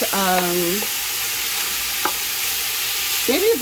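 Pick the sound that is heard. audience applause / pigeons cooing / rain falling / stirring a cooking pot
stirring a cooking pot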